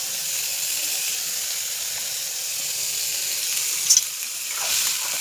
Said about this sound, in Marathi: तर आपण मिरच्या टाकूया.